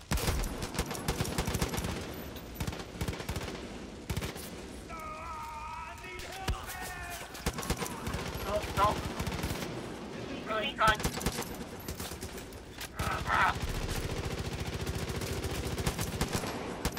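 Rapid bursts of automatic gunfire from a red dot rifle in the co-op shooter Far Cry 5, loud dense volleys that come and go between quieter stretches, with players talking over the action.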